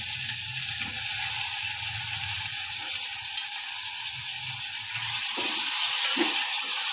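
Guar beans and potatoes tossed into a pan for guvar batata shaak and stirred, a steady sizzle with scraping ratchety clicks of the spoon, close and even, with a couple of sharper clatters near the end.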